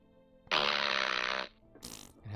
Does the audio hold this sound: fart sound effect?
yes